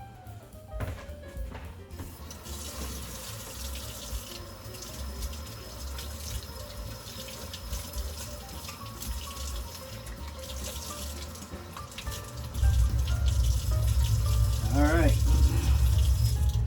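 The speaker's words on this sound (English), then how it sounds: "the next thing I want to do is wash my hands." A kitchen tap runs steadily as hands are washed beneath it, a close rushing splash that swells louder toward the end, with a brief spoken word at the start.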